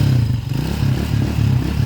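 A 200cc converted motorcycle engine idles smoothly and steadily, a close, even low throb that holds without revving for the whole short stretch.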